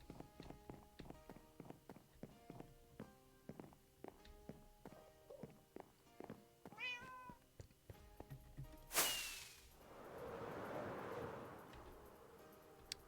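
Meows from a cat in a single-player video game, heard as short calls among steady clicking and tapping sounds, followed by a sharp burst and a broad rushing noise.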